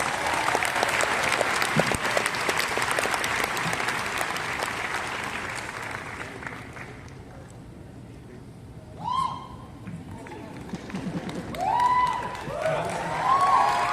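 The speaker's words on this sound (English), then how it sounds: "A round of applause to our director, Lexi Santos." Loud, sustained applause from a large theater audience at a musical fades out, followed by scattered whistles and cheers as the room quiets.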